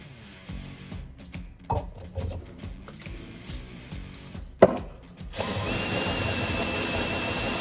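A power drill with a hole saw bores a precise hole during work on a 1946 Ford Coupe, scattered knocks and taps giving way to a steady, loud grinding whir over the last couple of seconds.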